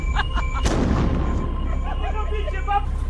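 A sharp, loud bang bursts out and leaves a crackling, fizzing tail, with fainter pops before it and a voice under the noise.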